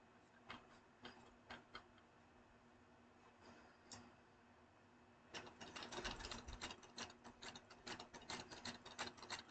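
A home sewing machine runs in quick bursts of needle stitching, faint at first with short gaps, then a steadier, louder run of rapid clattering stitches in a quiet room.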